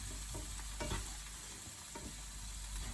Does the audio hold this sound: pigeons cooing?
no